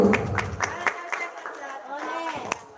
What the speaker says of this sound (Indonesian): Tepuk tangan untuk Bapak Teguh